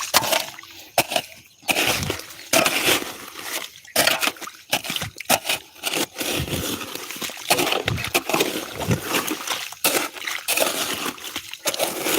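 Water from an irrigation pipe gushes and sloshes into a spinach field, splashing and trickling in uneven surges, close by, with a few brief voice sounds.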